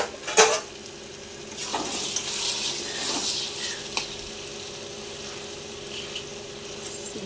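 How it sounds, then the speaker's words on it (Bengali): A metal lid clanks once as it is lifted off a cooking pot of boiling vegetables, followed by soft scraping and a low simmering hiss in a quiet kitchen. "এবার ঢাকনা খুলে দেখি কতদূর সিদ্ধ হয়েছে"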